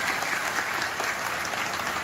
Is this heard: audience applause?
yes